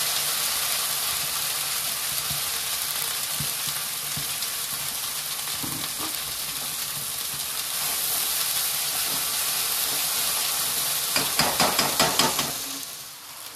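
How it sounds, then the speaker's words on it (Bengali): Ground onion and ginger paste with cumin sizzling steadily in a hot pan for an egg malai curry, a loud continuous hiss with a few stirring scrapes near the end. "যে মশলাটা আমি গ্রাইন্ড করে রাখছিলাম, পেঁয়াজ আদা এগুলো দিলাম।"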